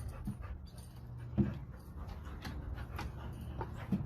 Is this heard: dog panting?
yes